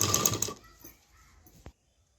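A sewing machine stitches along the lining edge of an embroidered boat-neck blouse in a short, close rattling run, followed by fainter clicks and a quiet stop.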